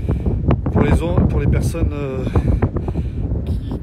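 Wind blowing at a beach in Dakhla, Morocco, buffeting the microphone with rough gusty rumble beneath someone talking throughout.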